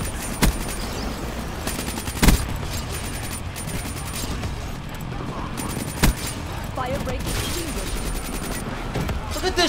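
KN-44 assault rifle fire in Black Ops 3 free-for-all play, loud sustained automatic bursts with a few sharper shot peaks, steady combat noise throughout.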